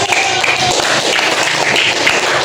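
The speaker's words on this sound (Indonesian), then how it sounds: "tepuk tangan buat kelompok 1" Fourth-grade classroom applause for a student group after their presentation, a loud dense patter of many hands clapping close by, continuous for the whole stretch with no talking.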